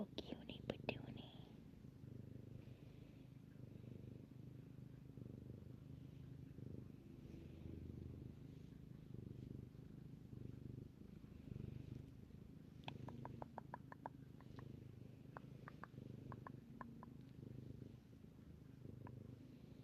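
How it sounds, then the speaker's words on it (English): A cat purrs close by in a low, continuous rumble while someone whispers softly over it. "He's such a good kitty."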